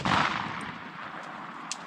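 One sharp, fairly faint report from a Smith & Wesson Model 686-6 revolver with a 6-inch barrel, firing a Winchester 110-grain .357 Magnum hollow point, fading into a brief outdoor echo.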